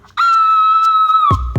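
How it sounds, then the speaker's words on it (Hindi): On command, a woman lets out a loud, sustained, high-pitched scream that holds steady for about a second in a comedy police-station scene, then cuts off into a couple of dull thumps. "अब जरा चीखिए"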